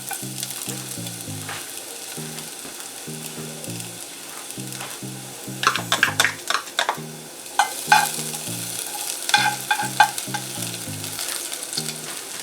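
Finely chopped garlic frying in a pot of oil, a steady close sizzle running throughout, with bursts of stirring and clattering from about the middle onward and no talk.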